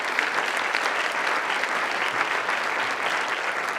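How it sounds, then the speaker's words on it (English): A room full of guests at a president's scholarship reception applauds a donor, dense, even clapping from many people, sustained and fairly close, with no voices rising above it. "please give another round of applause for Tom"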